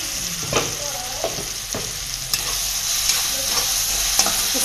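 Masala being stirred into cluster bean (guar) curry frying in a pan, steady sizzle with several distinct scraping stirs of a spoon, close and fairly loud.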